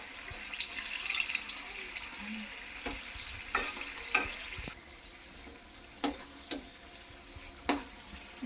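Mirchi bajji, batter-coated chili fritters, frying in hot oil. A soft continuous sizzle is broken by sharp clinks and splashes as the pieces are stirred and turned over.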